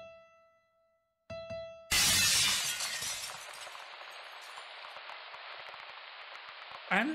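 In the detective video game Copperport Case Files, the cracked glass pane of a locked door shatters with a sudden loud crash after a few soft tones. Long scattering debris and tinkling shards follow, then a final sharp knock.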